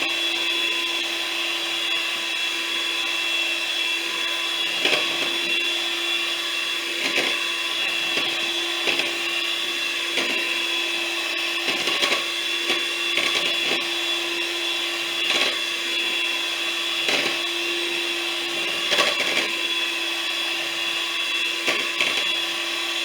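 An electric hand mixer blends butterscotch pecan bar batter with pudding, a steady continuous motor whir running throughout with occasional bumps against the bowl.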